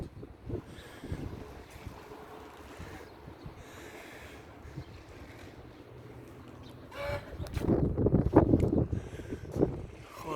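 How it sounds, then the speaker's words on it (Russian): Strong hurricane-force wind of about 25 m/s roars around small wind turbines, blowing in uneven gusts that swell much louder toward the end. "Тогда вот такой сильный ветер."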